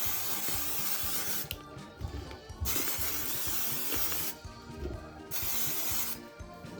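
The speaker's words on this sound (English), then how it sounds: "we're just going to spray some butter spray on there" Bursts of butter-flavored aerosol cooking spray hiss close by onto corn ears in an air fryer, two long sprays with brief pauses between them, over faint background noise.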